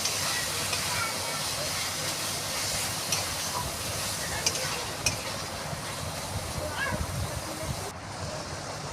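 Ginger-garlic paste and ground cumin paste being sautéed with chicken for a curry, a steady low sizzling hiss with faint stirring scrapes, fairly quiet and continuous.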